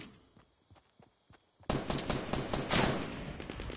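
Rapid bursts of automatic gunfire in the Fortnite video game, starting suddenly and continuing loud and dense, with faint clicks and footsteps before the shooting begins.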